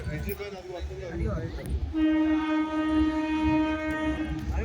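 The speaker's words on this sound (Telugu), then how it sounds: "ఒక ట్రైన్ వస్తుంది రే అది ట్రైన్ పైన ట్రైన్ వస్తుంది" A train horn sounds a long steady blast over rumbling rail noise, while people talk excitedly nearby.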